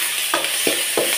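Curry leaves are tempered in hot oil, giving a steady close sizzle broken by three quick sputtering bursts at regular intervals.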